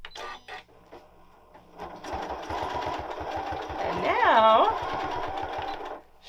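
Janome M8 sewing machine stitching a quilt, a rapid mechanical needle rattle that speeds up and slows, with a rising and falling motor whine and a person talking near the start.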